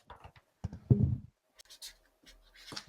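A pen scratches across a game card and fails to leave a mark, producing short scratchy scribbles in irregular bursts. The sound is close and fairly quiet, with pauses between strokes and no talking.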